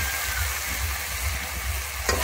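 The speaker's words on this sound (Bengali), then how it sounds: "এরপরে আমি দিয়ে দিচ্ছি সেদ্ধ করে রাখা মোচাটা" Boiled banana flower added to masala frying in oil: a steady, close hiss and sizzle throughout, with a brief clatter near the end.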